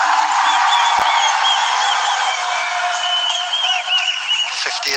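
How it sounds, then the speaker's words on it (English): A sun-baked cricket crowd at a Nepal vs Netherlands T20 match roars and cheers in a dense, sustained wash of noise for several seconds. "You can just hear the crowd who might have been just a little bit sleepy in this hot sunshine come alive with that."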